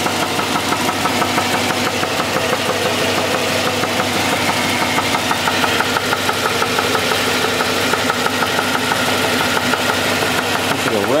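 Car engine, under an SS, idles steadily with a continuous low rumble and a regular rapid knocking from a bad connecting rod, loud and close throughout.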